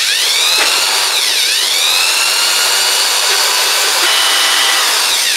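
Power drill fitted with a 38 mm bit grinding into ceramic, a continuous high-pitched whining scrape with shifting tone, loud and close, no talking.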